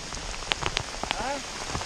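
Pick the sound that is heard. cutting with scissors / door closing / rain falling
rain falling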